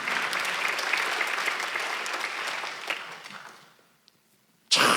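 Church congregation at a Sunday worship service clapping together, a loud dense wash of applause that fades out over several seconds into near silence before a sharp burst returns at the end.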